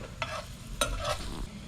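Ground tomatoes dropping into a hot pan of garlic sauce, a few soft wet plops and stirring scrapes over a low steady sizzle, close and quiet with no talk.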